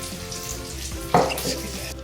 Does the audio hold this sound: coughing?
no